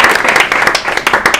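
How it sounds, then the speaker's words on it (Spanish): Loud, close audience applause at the end of a talk on behavioral science, a brisk, dense burst of many hands clapping. "un aplauso para vosotros"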